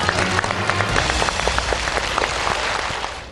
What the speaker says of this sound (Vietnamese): chúng ta cùng dành một tràng vỗ tay để đến với những hình vẽ đầu tiên của vòng thi đầu tiên